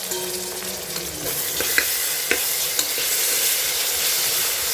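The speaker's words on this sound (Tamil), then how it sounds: "இதையும் சேர்த்து நல்லா நம்ம வதக்கிக்கிடுவோம்." Onions, tomatoes and green chillies frying in a pan for a mutton curry, with a continuous close sizzle and a few sharp scrapes and taps of a spoon stirring the mix.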